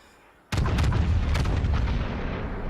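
A heavy warship gun salvo in a naval video game, a battleship Sovetskaya Rossiya, erupts suddenly as a loud, booming multi-shot blast that rolls on into a long sustained rumble with no talking.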